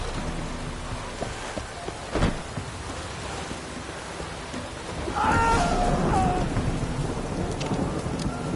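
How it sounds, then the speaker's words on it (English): Rain and thunder in The Witcher 3 near a cursed island, continuous rainfall with a sharp crack of thunder near two seconds and a rolling rumble swelling later, no voices. "Looks like rain."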